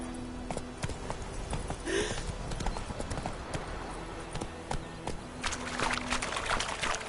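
Horse hooves clip-clop in the video game The Witcher 3, a steady run of light, regular hoof strikes mixed with faint trickling and brief background noises.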